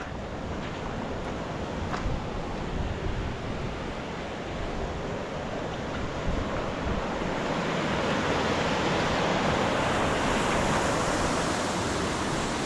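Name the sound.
flooded river water rushing under bridge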